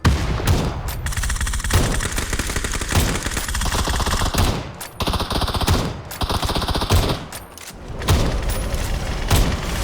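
Loud, rapid automatic gunfire in the battle royale game PUBG: Battlegrounds, with long sustained bursts broken by short pauses, close and dominant throughout.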